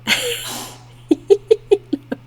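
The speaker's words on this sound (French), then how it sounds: "Mon chat éternue, excusez-le." A cat sneezes once sharply up close, followed by a string of six or seven short, evenly spaced snorting sniffs that fade slightly toward the end.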